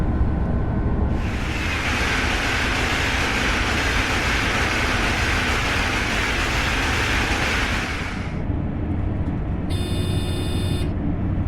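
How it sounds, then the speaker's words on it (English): An ICE3 high-speed train in the Train Sim World game accelerating toward 200 km/h, a steady loud rolling rumble and broadband roar that swells and holds, then eases, followed by a brief electronic cab alert tone near the end. "the train is now accelerating to 200 km/h"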